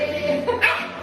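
A short bark from an English bulldog, one or two quick yelps close by, with a faint voice in the background.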